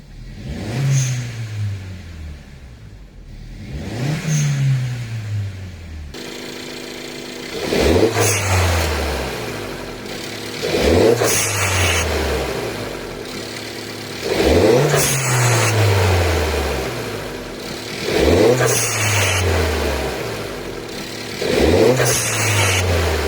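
A stationary Suzuki Swift Sport engine revs up again and again, and each rev ends with a sharp hissing whoosh from an HKS blow-off valve. The pattern repeats about six times, nearby and without talk.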